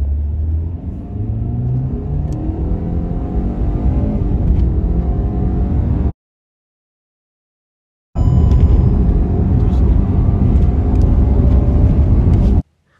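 Hyundai Verna automatic running a 0-100 drag-race launch against a Creta: a loud, close engine roar and road rumble build steadily, cut to silence for about two seconds, then the strong engine and rumble return at full level.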